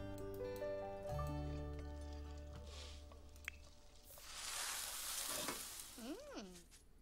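Scrambled eggs sizzle in a pan in The Sims 4, a soft frying hiss that swells midway amid game music tones, faint and close, ending with a brief voice-like chirp.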